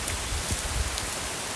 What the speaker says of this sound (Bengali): তো বন্ধুরা অনেক আসলে বৃষ্টি হচ্ছে